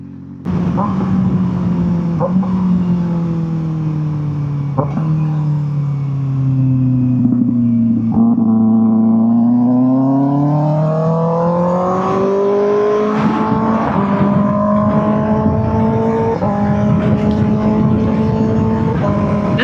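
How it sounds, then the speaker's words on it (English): A Kawasaki ZX-6R sport motorcycle engine idles, then revs up and down in smooth rising and falling sweeps, loud and close. "Bike sounds good."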